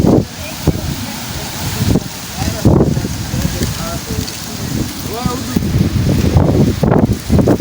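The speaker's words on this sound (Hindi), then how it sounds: "इतनी तेज़ आंधी है, इतनी मिट्टी है।" Strong dust storm wind roaring and buffeting against the microphone in gusts, loud and continuous, with someone talking over it throughout.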